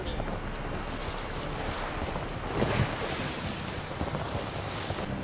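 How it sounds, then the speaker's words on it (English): Ocean waves and wind while sailing a boat on the open sea in The Witcher 3, a steady rushing wash of surf and blustery wind, with one louder splash of a breaking wave partway through and no voices. "The waves in this area are not so big, I suppose."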